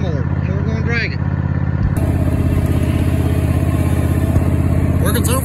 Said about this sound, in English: I tie strapped it to the lawnmower, and we're going to drag it.